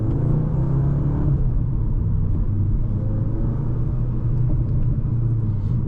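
Exhaust note of a 2024 Audi S3 heard from inside the cabin, a steady, damped low rumble that stays even and continuous with no talk over it.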